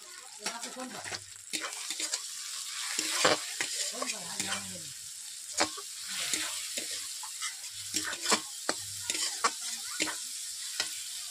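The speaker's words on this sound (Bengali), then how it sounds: "মশলাগুলোকে এইভাবে আমি 3 থেকে 4 মিনিট কষিয়ে নিচ্ছি।" Tomatoes with chili and turmeric powder being sautéed in a pan for a chicken dish, a steady sizzle broken by repeated scraping stirs and soft clinks, close and moderately loud.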